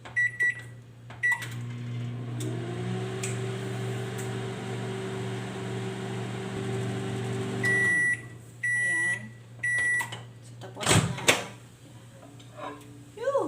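A microwave oven hums steadily while reheating leftover dried fish, its drone starting and stopping with beeps, followed by door clunks and kitchen clatter.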